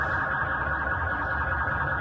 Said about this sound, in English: So the car alarms are going off and all the cars are frozen.